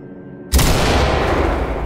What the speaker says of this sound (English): Just throw a flashbang under there